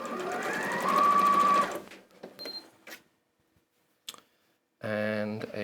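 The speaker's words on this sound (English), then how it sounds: "what I'm doing is I'm then just sewing a 1/4 inch seam down the side" A sewing machine stitches a quarter-inch seam on fabric, running in a loud steady whir for about two seconds, then stopping amid small clicks and handling noises before a voice speaks.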